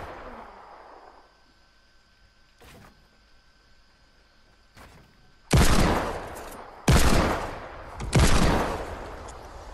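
Gunshots in Fortnite Season 9: three loud, booming shots, each with a long decaying tail, fired a little over a second apart after a quieter stretch with faint taps.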